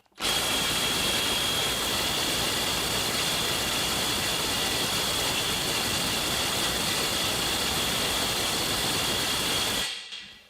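Snap-on CT-9010 cordless impact wrench hammering on a bolt at 450 foot-pounds, a continuous loud rattling hammer for about ten seconds that stops abruptly.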